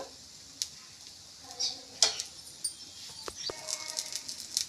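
Oil sizzles on a goduma rava carrot dosa cooking on a pan, a faint crackle and hiss broken by a few sharp clinks, with a voice speaking softly underneath.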